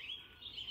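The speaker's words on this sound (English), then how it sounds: "Listen to those birds." Birds singing on an old farm in the morning: a faint, thin chirping that warbles continuously in the distance over quiet rural background, with no voices.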